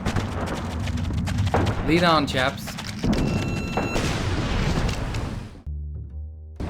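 Explosions and artillery fire boom in Iron Storm, a 2002 shooter set in an endless First World War, heavy thuds rolling over one another for several seconds while an in-game voice speaks, then cutting off sharply.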